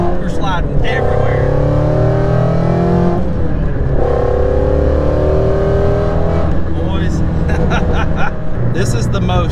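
A Ford Mustang GT350 800R with a Fathouse performance build accelerates loudly in first gear, engine note rising in close, sustained pulls while people talk over it.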